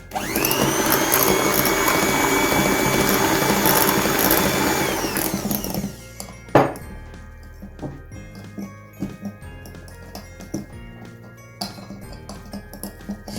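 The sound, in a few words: electric hand mixer running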